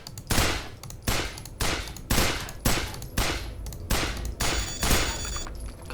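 Rhythmic bursts of gunfire at a target in the 2007 demo of the sci-fi shooter Interstellar Marines, about nine loud, close, evenly spaced volleys with short echoing tails and no talk.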